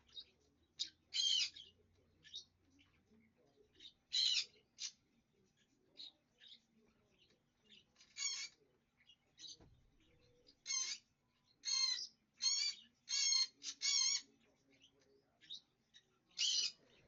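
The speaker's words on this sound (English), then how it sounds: "Big bird, big bird. You crazy bird." A big indoor bird calls with a series of sharp, high chirps and squeaks, scattered irregularly, some in quick clusters, all fairly faint against a quiet room.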